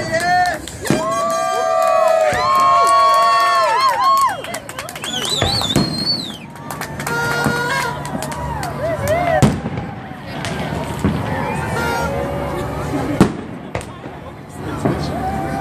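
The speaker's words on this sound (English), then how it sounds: "Back to the fireworks." Fireworks boom and crackle loudly over a New Year's Eve crowd in Old Sacramento, with repeated bursts, whistles and cheering, and people talking nearby throughout.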